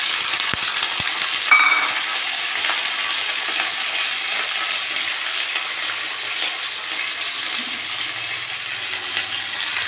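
Garlic sizzles steadily in hot oil in a pan for Tamil garlic kulambu, a continuous close frying hiss with a brief clink of a utensil early on.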